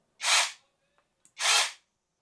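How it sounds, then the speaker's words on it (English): An AVADA brushless 6-inch mini chainsaw, battery powered, revs twice in short bursts of under half a second each with a quiet gap between them, loud and close, with no voices. "start and operate the chainsaw."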